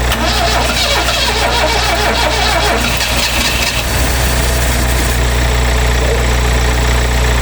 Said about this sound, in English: just see if it'll tick over